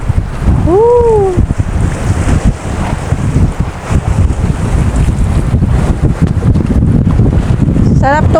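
Strong wind buffets the microphone beside a lake along Batangas Boulevard, a loud, steady roar with gusts throughout, joined briefly by a bird's call near the start.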